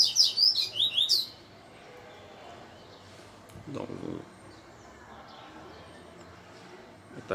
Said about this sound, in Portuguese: Tá cantando bem, tá cantando já o dia todo.